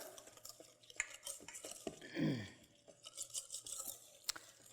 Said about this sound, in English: So we're going to do 2 tablespoons of rum here. All right, we're going to whisk that together.